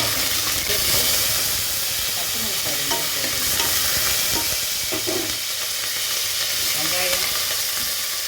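Mustard seeds, chana dal, urad dal and a dried red chilli temper in hot oil in a pressure cooker, giving a loud, steady sizzle and hiss with stirring scrapes throughout, while a voice speaks briefly.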